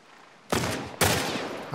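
Two loud bursts of enemy rifle fire in The Last of Us Part I, each a rapid crackling volley lasting about half a second, close and harsh with nothing speaking over them.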